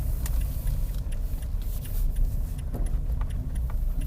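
A car engine pulls steadily in first gear under a light press of the accelerator, a low continuous hum with faint rattles near the listener and no voices over it.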